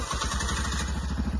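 A motorbike engine chugs nearby in a steady, rhythmic low pulse for the whole moment, moderately loud, with no voices over it.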